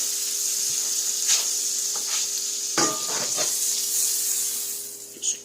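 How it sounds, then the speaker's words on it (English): Butter and a grilled cheese sandwich sizzle in a pan, a steady bright hiss close up with a few scraping stirs and a louder sear midway, easing slightly at the end. "throw it in the pan, move it around a little bit. Take your sandwich."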